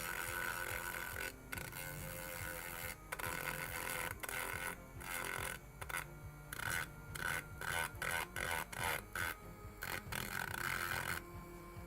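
A wooden part for a 1:76 Mayflower ship model kit is sanded by hand, with close rasping strokes in bursts separated by short pauses, growing more rhythmic toward the end.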